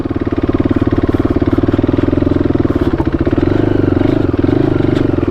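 A KTM RC390 sport motorcycle ridden off-road gives a loud, steady single-cylinder engine drone with rapid pulsing, close up and continuous, with some rattling clatter over rough ground.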